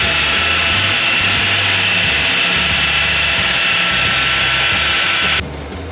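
A loud, steady power-tool whine, like an electric sander running continuously while sanding a bass boat part, then cuts off abruptly near the end.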